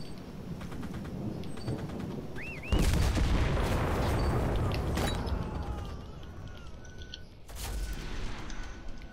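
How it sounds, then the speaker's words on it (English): A loud blast from a bazooka in the CRSED shooter game hits, followed by a long rumbling roar that fades over several seconds, with a second smaller burst later and scattered game ambience around it. "someone's shooting bazookas at my fucking zombie"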